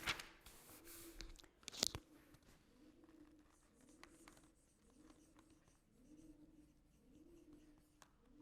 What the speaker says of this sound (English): so I am going to write on the board